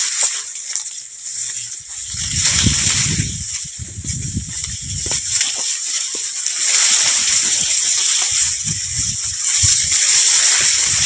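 Irrigation water flows through a sugarcane field, an uneven sloshing and splashing rush that swells and fades over a steady high hiss, close by and with no talk.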